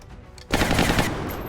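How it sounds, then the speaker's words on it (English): Short, rapid burst of gunshots in XCOM with the Long War mod, starting abruptly after a quiet lead-in and rattling loudly in quick succession for about a second before trailing off. "So rapid fire this guy."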